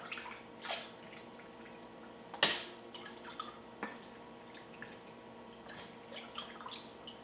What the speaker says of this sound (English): And give it a stir, and then we just ladle in our brine.